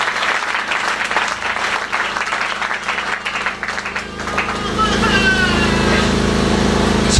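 A church congregation at a spiritual service breaks into loud, sustained applause for the Lord. The dense clapping grows fuller and steadier toward the end, with only faint voices beneath it.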